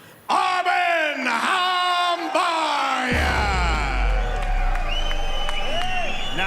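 A fight crowd at a GLORY kickboxing event voicing displeasure at a split decision, a loud sustained wash of yells and jeers swelling after an announcer's amplified voice calls out the winner.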